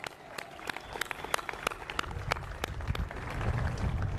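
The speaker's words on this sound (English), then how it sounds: "Let's give her another big round of applause." Scattered audience clapping at a stadium ribbon-cutting ceremony, sparse distinct claps at first that thicken into fuller applause with rising crowd noise toward the end, fairly distant and modest in volume.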